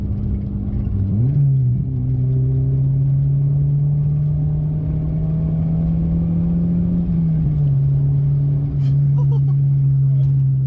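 An engine-swapped Ford car with a snappy manual gearbox pulls hard along a B-road, a steady engine drone rising and dipping around gear changes, heard from inside with a voice talking over it.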